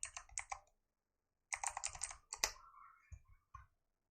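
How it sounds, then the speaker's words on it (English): Quick bursts of key presses on a computer keyboard, close and crisp, in two short flurries separated by a brief pause, ending with a few isolated taps. "Let me just type full access."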